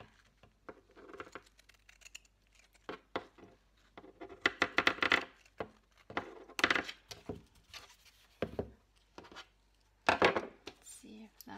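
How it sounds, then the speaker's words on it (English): Scissors cutting a strip of paper for junk journal ephemera: irregular close snips and crisp rustling bursts, scattered across several seconds with quiet handling noise between. "I'm just gonna cut a strip"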